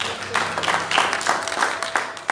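A congregation at a church service breaks into a short, steady burst of applause, many hands clapping together at moderate volume with no voices over it.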